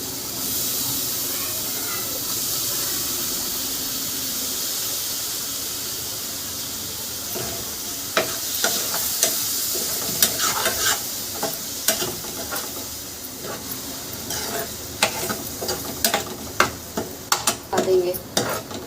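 Soaked sago pearls and chopped coriander cook in a hot pan, starting with a steady close sizzle and moving into louder clinks and scrapes of stirring.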